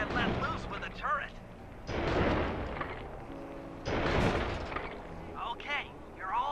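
A tank turret fires twice in the Sly 2: Band of Thieves jailbreak finale. Each shot is a heavy, booming blast that rumbles for about a second. Game character voices chatter before, between and after the shots.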